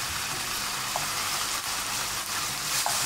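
White wine reducing in a pan for mushroom toast, a steady, loud sizzle and bubbling fry that holds evenly throughout with no voices.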